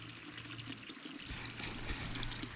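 Water trickling steadily from a roadside spring along a forest trail, a soft continuous pour heard close by with no talking.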